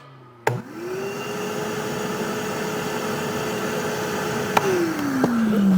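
A DeWalt Stealth Sonic wet/dry shop vac switches on with a sharp click, spins up to a steady, fairly loud whooshing hum, then is switched off and winds down as it slows near the end.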